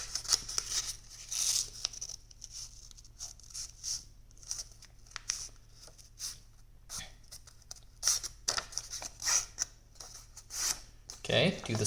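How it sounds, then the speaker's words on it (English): A sheet of origami paper is folded with crisp rustles and crinkles, coming in short bursts separated by quiet pauses, close to the listener. "Now fold both edges to the middle crease there."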